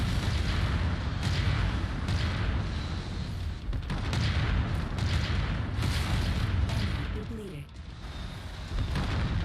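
Heavy gunfire and booming impacts from MechWarrior 5 roar almost without pause, loud and dense, with a voice speaking underneath at times.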